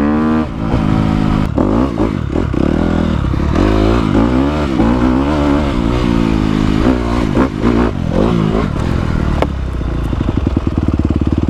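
A found dirt bike engine runs loud and close, revving up and down in uneven bursts with a rattly, clattering idle between throttle blips.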